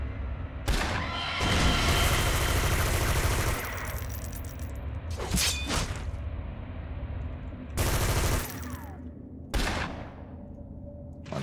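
Rifle gunfire in City of Villains, several loud bursts of shots separated by short pauses over a steady game background.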